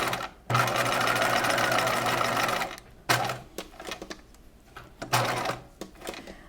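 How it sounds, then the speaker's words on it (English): A sewing machine stitches a boning channel on a bodice in a rapid, steady mechanical run of about two and a half seconds, then stops and starts again in shorter bursts with a few clicks in between. "I like to stitch in the same direction on both sides of the boning channel"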